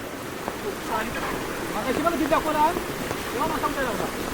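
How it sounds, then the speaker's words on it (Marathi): Heavy monsoon rain in the Konkan pours steadily in a dense, even wash of drops, with a person talking faintly underneath. "पाऊस भरपूर आहे पावसाचा काय जोर कमी होत नाही हो"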